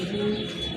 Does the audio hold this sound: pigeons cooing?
yes